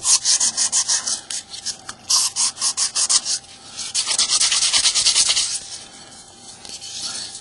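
Hand sanding a chrome fixture with sandpaper: a steady, close, loud rhythmic rasp of strokes, evenly paced at first, then blurring into a continuous scrubbing texture.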